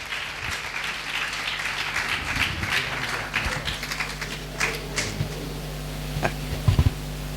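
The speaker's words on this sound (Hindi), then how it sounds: "और हम तालियों के साथ प्रभु के दास को स्वागत करते हैं।" A church congregation claps to welcome the preacher, a sustained crowd of many hands patting steadily throughout, moderately loud and reverberant, with a few sharper claps standing out near the end.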